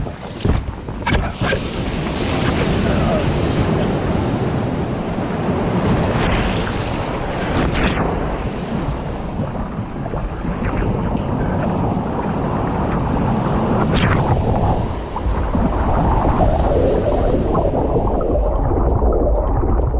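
Surf breaking off Vero Beach, Florida, beside a kayak paddling out past the breaker zone, a steady loud wash of waves mixed with heavy wind buffeting the microphone throughout, with no voices.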